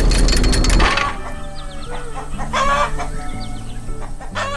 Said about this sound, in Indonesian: Ayam-ayam ini sangat disiplin ya.